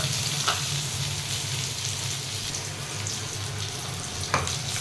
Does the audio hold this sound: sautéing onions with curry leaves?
yes